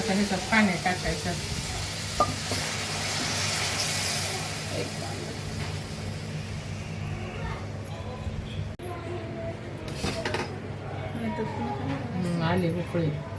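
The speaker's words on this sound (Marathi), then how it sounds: "आता ह्याच्यात पाणी टाकायचं." Water poured into frying masala with turmeric and coriander for masala bhat sends up a loud, broad sizzling hiss that gradually settles into a quieter, steady bubbling sizzle with some stirring.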